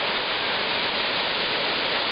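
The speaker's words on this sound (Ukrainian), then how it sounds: "І ось зараз перед вами водоспад." A waterfall on a river near Ilemnia village roars as a steady, dense hiss of rushing water, constant and unbroken throughout.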